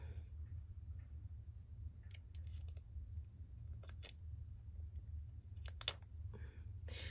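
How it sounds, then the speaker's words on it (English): Small craft scissors snipping during paper and lace folio work, a few sparse short crisp snips in quick clusters, faint and close, over a steady low hum in a quiet room. "So let me get my little scissors."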